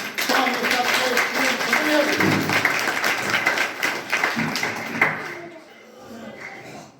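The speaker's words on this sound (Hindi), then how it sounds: "एक जोरदार और शानदार ताली से करेंगे उनका वेलकम" Audience applause welcoming the chairman at an open meeting of the SC/ST OBC commission in a village in Shamli district, steady and dense clapping that fades out near the end.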